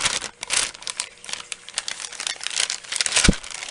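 Plastic bags from a silicone mold unboxing crinkle and crumple up close in quick, uneven bursts of rustling, with no talk over them.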